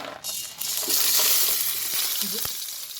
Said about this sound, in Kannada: ಓಕೆ, ಇದಿಷ್ಟನ್ನು ಈಗ ಫ್ರೈ ಮಾಡ್ಕೊಳ್ಳೋಣ